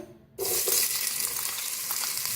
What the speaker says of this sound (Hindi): ऑयल हमारा गर्म हो चुका है। अब उसमें प्याज शामिल करेंगे।